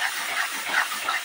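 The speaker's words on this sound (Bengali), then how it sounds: "দিয়ে ভালো করে মশলাটাকে আমি এভাবে কষে নেব" Masala with turmeric and Kashmiri chili frying in oil for chicken curry, giving a steady, close hissing sizzle that runs alone through the short moment.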